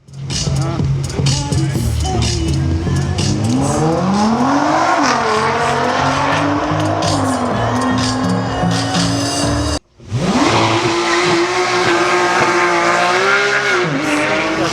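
A Hemi V8 American car launches at the start of a one-mile speed run, its loud engine note climbing through the gears with tire squeal and a brief cut before another hard acceleration, under excited commentary.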